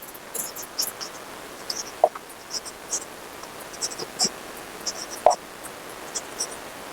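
Pen or pencil writing on paper: small scratchy strokes and light taps come in irregular bursts, close and quiet, with no voice over them.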